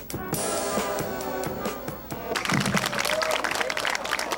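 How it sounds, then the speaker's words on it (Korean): Audience applause at a stage performance, breaking out as a fading musical passage ends and swelling into a dense, steady clatter of many hands that carries through to the finish. "예, 다시 한번 큰 박수 부탁드리겠습니다."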